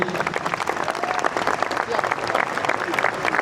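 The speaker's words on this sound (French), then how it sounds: "je vous propose de vous applaudir et on les applaudit" A room full of players at a Nantes poker tournament applauds the surviving main-event players, a continuous patter of clapping from a moderately distant crowd.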